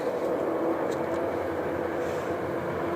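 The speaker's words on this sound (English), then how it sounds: "And there goes the train." A train rumbles past in the distance in the countryside, a steady low droning roar that holds throughout with no one speaking.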